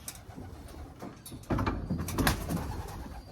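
A racing pigeon at a one-loft race coos softly, a low murmuring call close by against quiet background noise.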